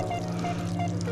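Water pours steadily from an Unger HydroPower Ultra window-cleaning purification system, a continuous close rushing trickle for about a second with a low hum beneath.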